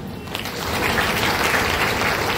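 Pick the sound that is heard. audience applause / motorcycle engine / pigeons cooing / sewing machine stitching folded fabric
audience applause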